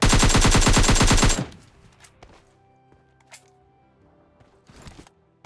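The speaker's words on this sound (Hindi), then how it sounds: "इतने सारे लोग गोली चला रहे थे भाई" A rapid burst of PUBG Lite gunfire, loud and dense for about a second, then sparse distant shots and small clicks over a quiet background.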